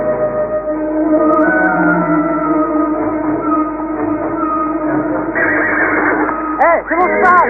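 A horse neighs loudly, with a long shrill whinny and a second shorter one near the end, over continuous voices and background commotion.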